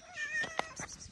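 A calico cat lets out a single close, clear meow, short and plaintive, rising then falling in pitch, with no one talking over it.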